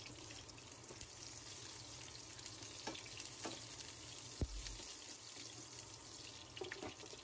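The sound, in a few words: onion being sautéed in a pan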